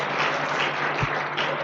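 Audience applause for Pak Ruli Wahyudi at a seminar event, dense steady clapping from a crowd filling the whole short stretch, loud and close, with no talk over it.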